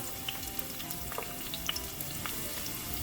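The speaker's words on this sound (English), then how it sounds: "I'm on medium-low heat. I don't want to burn my shallot." Peppers and shallots frying over medium-low heat for a Haitian breakfast: a gentle, continuous close sizzle with small pops, no speech.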